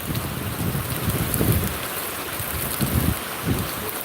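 Heavy rain pours down in Zaheerabad as a dense, steady roar, with low rumbling swells rising and falling underneath throughout.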